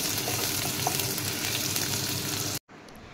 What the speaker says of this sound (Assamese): অলপ পিয়াজখিনি অলপ ৰং চুমুৱা কৰি লওঁ